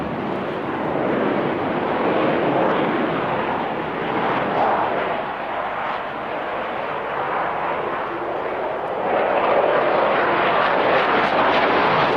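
Eurofighter Typhoon jet powered by twin EJ200 turbofans taking off at an air show, a loud, steady broadband roar that holds for the full stretch and swells slightly near the end, with no voices.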